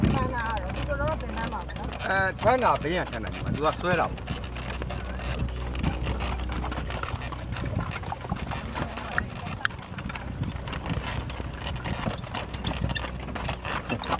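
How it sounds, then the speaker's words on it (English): Horse-cart hooves clip-clop in a steady trot close by in Bagan, Myanmar, mixed with rattling cart noise and talking voices. "There are so many of these horse carts."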